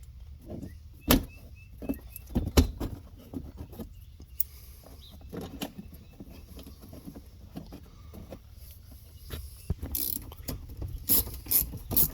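Power-tool ratcheting drives 8 mm screws into the front bumper flaps of a 2013-2016 Dodge Dart. Short mechanical whirs and clicks come in separate bursts with quiet gaps between them, fairly close and moderately loud.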